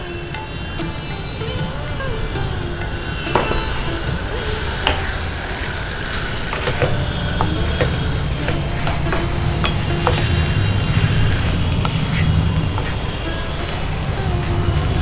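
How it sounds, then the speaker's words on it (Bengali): Frying and stirring in a pan while making a sweet paneer dish with aamsatta pieces, with steady close sizzling and repeated scraping and clinking of the spatula throughout, with no talk. "বেশ করে ভাজা ভাজা করে নিচ্ছি।"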